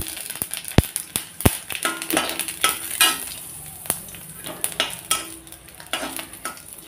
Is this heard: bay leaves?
yes